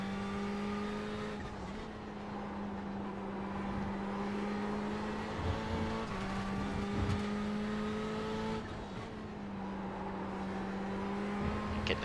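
A Ferrari 488 GTE race car engine drones steadily as it runs flat out around Monza in a racing game, with a sustained high tone, gear shifts and brief dips in pitch under braking.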